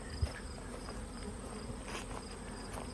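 Honeybees swarming at a hive entrance during a robbing or nectar frenzy, a faint continuous buzzing drone of many insects in the background, steady and without speech.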